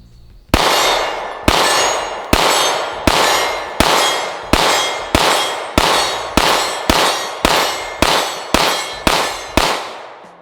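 Fourteen sharp gunshots from a CZ P-10C ported pistol in a steady, fast rhythm, each ending in a bright metallic clang off a steel target that rings briefly; loud and close, with no talking.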